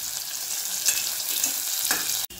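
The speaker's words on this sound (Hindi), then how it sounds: "गैस का फ्लेम को लो करके प्याज को अच्छी तरह से भून लेते हैं" Onions fry over a low gas flame, a soft steady sizzle with faint stirring touches, close by, with no voices.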